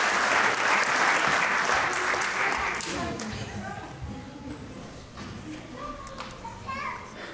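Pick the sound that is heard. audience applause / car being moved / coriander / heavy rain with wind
audience applause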